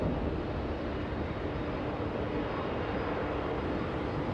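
A WestJet airliner at Los Angeles International Airport, its engines giving a faint, steady distant rumble with no talking.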